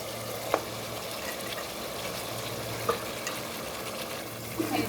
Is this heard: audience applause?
no